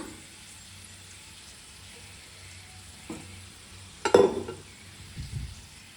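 Cooking oil goes into a pan for carrot palya with a quiet stretch, then a sudden clatter and hiss partway through, followed by softer sizzling and stirring noises. No one speaks.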